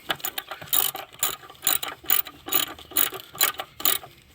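A hand ratchet snugs up bolts underneath a 2011-2016 Chevy Cruze during transmission removal, its clicking coming in quick close bursts of several strokes, each followed by a short pause.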